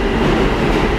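A New York City subway train rumbles loudly and steadily close by, a dense continuous roar of wheels and carriages.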